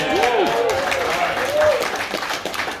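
At a comedy show, an audience bursts into applause mixed with whoops and whistles, the clapping dense and loud before thinning out toward the end.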